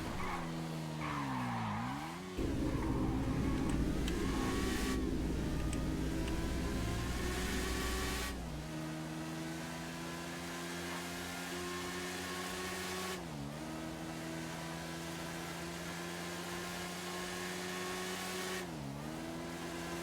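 A motorcycle engine revs hard while the rider holds a wheelie, a loud sustained high-pitched drone with a few brief dips in pitch like gear changes and no pauses.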